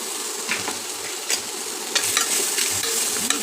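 Onions turning light brown in a hot pan with spices for tomato rice give a steady, close sizzle, broken by occasional scraping stirs and light clinks, with no talking.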